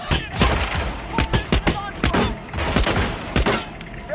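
Gunfire in the video game Hitman on PS4: a loud, close burst of rapid shots and impacts fired in quick succession, some sharp cracks standing out, with no voices over it.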